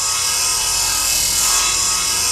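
A saw tool cutting through a door in the space survival game Breathedge, a loud, continuous harsh rasping grind that fills the whole short stretch without pause.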